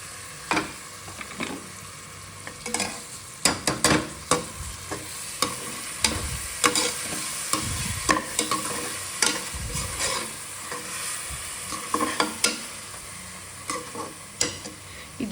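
Ground masala paste for nati-style mutton biryani frying in a pan, a steady sizzle broken by repeated sharp scraping and clinking stirring strokes throughout, with no talk.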